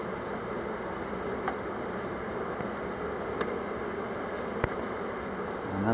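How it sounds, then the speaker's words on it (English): A honey bee swarm gives off a steady, dense hum while being gently swept from frames into a hive, with a few faint clicks and taps over the constant buzz. "Get these bees into the hive."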